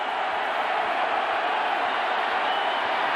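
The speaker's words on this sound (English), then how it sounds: "This crowd is on their feet" Football crowd at the Carrier Dome in a 1991 Florida vs Syracuse game roars in a steady, dense wall of cheering that holds evenly throughout.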